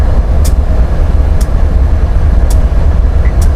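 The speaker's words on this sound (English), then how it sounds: "our pass-through train is gone" A train passes under the lights, likely Norfolk Southern Train NS123, with a loud, steady low rumble of rolling wagons filling the whole stretch and faint high clicks recurring at intervals.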